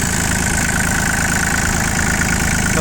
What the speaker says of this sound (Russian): Здесь имеем трехцилиндровый моторчик Киномото. Прекрасно он работает.